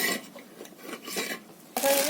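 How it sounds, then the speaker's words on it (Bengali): Knife slicing ridge gourd and potato in a home kitchen, a series of soft scraping, rasping cuts that rise and fall at close range, ending in a louder clatter-like burst. "আমি ঝিঙে আলুটা কেটে নেব।"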